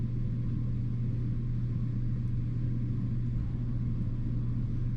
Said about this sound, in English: And there's the compressor coming on.